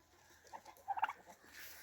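Farm poultry feeding in the morning: soft pecking and pattering with a few brief clucks clustered near the middle, faint and close, with no talking.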